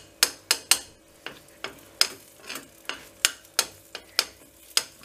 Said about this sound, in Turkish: karıştırarak gene biraz pişiriyoruz